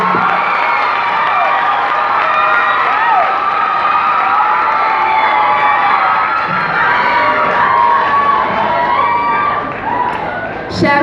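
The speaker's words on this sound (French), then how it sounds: "Sous vos applaudissements, mesdames," Audience cheering and applause fill a hall at an eloquence tournament grand final, a steady dense roar of clapping, shouts and whoops that stays loud throughout with voices mixed in.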